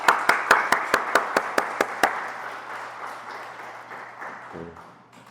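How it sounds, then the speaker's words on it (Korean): A church congregation claps in encouragement for the teachers, starting with about ten sharp, evenly spaced unison claps before the sound loosens into scattered applause that fades out. "격려의 박수 하겠습니다"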